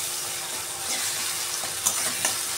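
Ginger-garlic paste, chopped tomato and chili are stirred in a hot pan for a mutton curry, giving a steady close sizzle with a couple of sharp scraping clinks of the spoon near the end.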